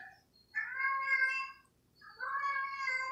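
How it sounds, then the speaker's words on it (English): A house cat meows twice, close and clear, each call a drawn-out tonal cry lasting about a second with a quiet pause between them, heard alone without talk. "Sorry, my cat."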